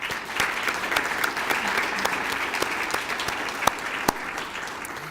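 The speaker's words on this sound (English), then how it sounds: "so give yourselves a round of applause" Applause rolls through the crowd at a junior high school's 25th anniversary celebration, steady clapping from many people with a few sharper individual claps standing out near the end.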